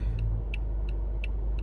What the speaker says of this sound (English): waiting for cars to go by because there's this 18-wheeler on my side of the street closer to me